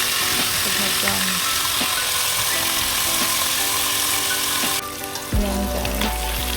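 Beef browning in hot oil in a pan for Filipino nilagang baka, a steady loud sizzle and crackle throughout with a few clanks of a utensil near the end.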